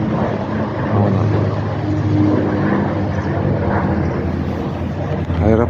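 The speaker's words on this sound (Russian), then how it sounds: "Так, вон он, самолет. Опять полетел. Какой-то маленький." A small propeller plane drones steadily overhead near Koltsovo Airport in Yekaterinburg, a continuous engine hum with faint voices nearby.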